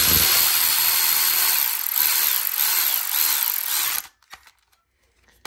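During a 2JZ engine build, a ratchet drives a bolt down into threads, giving a loud, rapid, buzzing clicking run that stops abruptly, followed by a few faint handling noises.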